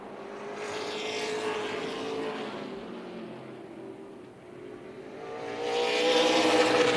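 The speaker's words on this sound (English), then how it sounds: "And Dylan Jones really on the throttle, pushing up that high side" Race cars at Tucson Speedway roar around the oval, their engines swelling, fading slightly and then building again to a loud, sustained drone with no voices.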